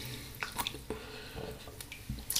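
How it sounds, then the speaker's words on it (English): Running water rinses shaving soap off, a soft, steady stream broken by brief splashes and drips at close range. "let's rinse off"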